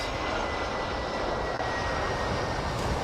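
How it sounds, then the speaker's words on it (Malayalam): An AirAsia airliner passes overhead near Phuket International Airport at Mai Khao beach, making a loud, steady broadband engine roar that holds without break for the whole stretch, with no voices present. "ഇപ്പോൾ ഒരു ഫ്ലൈറ്റ് പോയതേയിലും എയർ ഏഷ്യേൻ്റെ"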